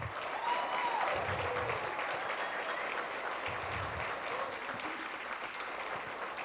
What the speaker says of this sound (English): Can we give them a hand?